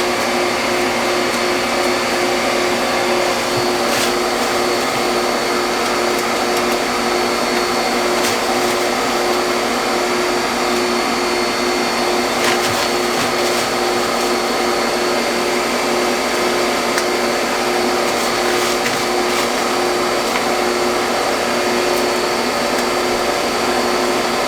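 A Nutramill ice cream maker churns with its mixer set to level 3, giving a loud, steady motor drone that holds unbroken from start to finish.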